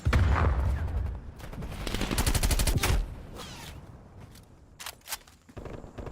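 Gunfire in the shooter game Black Ops Cold War: a loud burst of rapid automatic shots, then scattered single reports and clicks fading to quieter game ambience.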